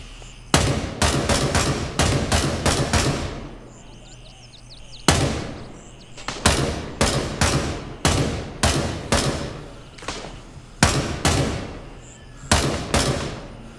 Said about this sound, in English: So, not great shooting on my part, but 3 enemies down